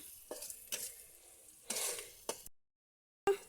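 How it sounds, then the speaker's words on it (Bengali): Onions frying until light brown in a pan, with bursts of sizzling and stirring scrapes, a brief silence, then another sharp stir. "আগে পেঁয়াজ বেরেস্তা করে নিচ্ছে হালকা বাদামি করে নিচ্ছে"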